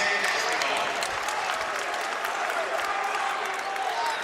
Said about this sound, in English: The crowd gives him a hand